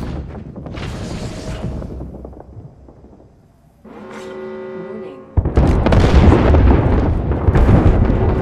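Airstrike explosions in the Apex Legends video game: a rumbling blast fades to near silence, then a mechanical hum builds before a heavy, sustained barrage of booming explosions close by. Voices are heard in places.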